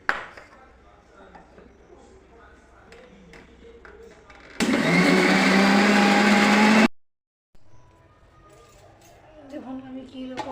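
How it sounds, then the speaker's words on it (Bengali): A mixer grinder whirs loudly for about two seconds, churning butter, a harsh continuous motor whine that cuts off abruptly, framed by quieter kitchen clatter and handling noises before and after. "এই যে আমি এইখানে মিক্সির মধ্যে এটা দিয়ে গ্রাইন্ডার করে নিচ্ছি মাখনটাকে।"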